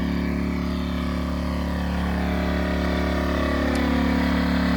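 Close and loud, a portable generator runs outside a bus, its low, even motor drone and throbbing hum continuing unchanged with no other sounds over it.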